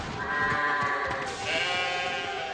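Cartoon sheep belonging to a cyclops bleat over a continuous dense, noisy background, several overlapping calls throughout.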